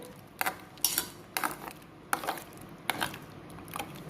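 A spoon scrapes and knocks around a pan of sweetened coconut milk kozhukattai mixture with cardamom, in soft intermittent clinks and scrapes, close but quiet, with no talk.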